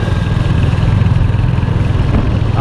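A Royal Enfield Hunter 350 motorcycle engine runs steadily up close, a loud, even low rumble with a fast throbbing pulse throughout.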